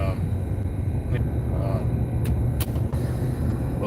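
Car interior while driving in slow traffic, a continuous low engine and road rumble with a few brief clicks and knocks, and someone talking over it.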